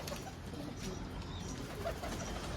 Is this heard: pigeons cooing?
yes